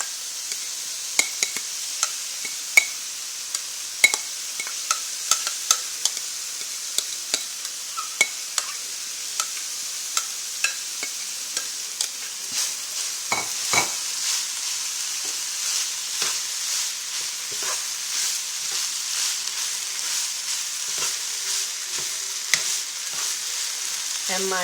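Black dried fungus stir-frying in a pan, a steady hiss of sizzling with many sharp spatula taps and scrapes scattered across the whole stretch, close and fairly loud, with no speech.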